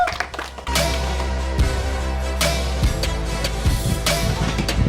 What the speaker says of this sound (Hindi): एक बार फिर से तालियां बजा दो प्लीज